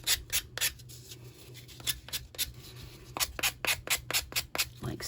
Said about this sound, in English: if you go in with a sanding block or an emery board, something like that, that will help get off that excess